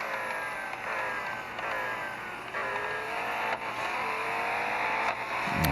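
A Senna GTR engine in a racing game, revving and shifting up through gears in a rising-and-dropping pattern, steady and moderately loud with no voices.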